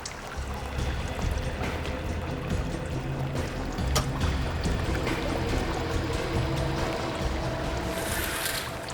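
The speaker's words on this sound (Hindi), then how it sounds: "पानी बहने की आवाज आ रही है।" Water flows in a steady, broad rushing wash that runs unbroken throughout and fills the scene at moderate loudness.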